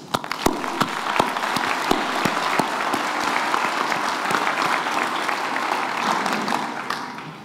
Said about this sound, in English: I invite everyone present here to join me in a round of applause and appreciation of what you've realized